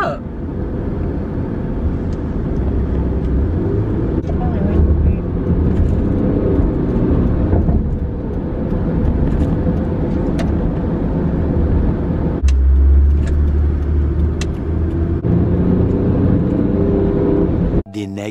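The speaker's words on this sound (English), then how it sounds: "I'm just waiting for this car to go so I can go." A car idles and rolls past close by, a steady low engine rumble that swells briefly near the end before cutting off.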